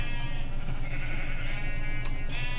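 Blue-dyed sheep bleating in Minecraft inside an animal enclosure, several close, steady calls over a constant background of game ambience.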